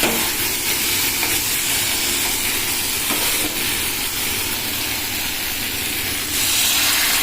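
Curry masala with tomato and sugar frying in oil gives a loud, constant sizzle and hiss, steady throughout with slight surges as it cooks.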